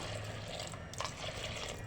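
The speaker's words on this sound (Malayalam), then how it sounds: "ആവശ്യത്തിന് വേകാനുള്ള വെള്ളം നമുക്ക് അതിലേക്ക് ചേർത്ത് കൊടുക്കാം" Water poured into a pot of lentils with drumstick, broad beans and onion for an Onam sadya sambar, a steady close splashing fill lasting under two seconds, with no talk.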